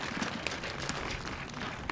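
An outdoor park concert crowd applauds, a thick continuous patter of many hands clapping with occasional sharper claps standing out, steady and fairly loud for the whole stretch.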